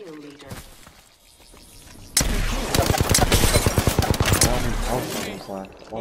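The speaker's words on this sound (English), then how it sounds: "Opening fire." Rapid automatic gunfire in a video game, a dense loud burst of shots that runs for several seconds after a quieter stretch, with excited voices talking over it.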